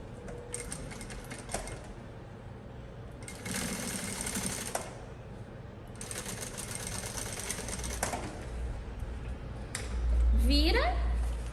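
A sewing machine stitches a backpack seam in repeated bursts of steady mechanical whirring, loud and close, with brief pauses between runs and a person talking over part of it.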